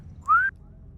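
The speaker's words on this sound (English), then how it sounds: "but I understand the whistle" A single short whistle from a person, rising smoothly in pitch and lasting about a quarter second, close and clear over faint background hum.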